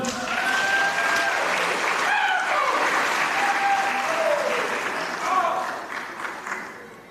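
Sustained audience applause at an anniversary celebration, dense clapping throughout with some cheers and voices mixed in, tapering slightly near the end.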